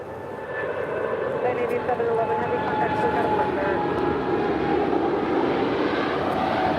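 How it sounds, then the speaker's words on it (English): An Atlas Air Boeing 747-8 rolls for takeoff on runway 25 left at LAX, a loud, steady jet engine roar building and holding close by, with air traffic radio talk faintly mixed in. "Atlas Air Flight 8111 heading to Anchorage and a 747-8 now rolling down. 25 left here on the south side."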